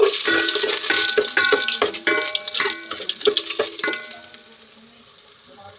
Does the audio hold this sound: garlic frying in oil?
yes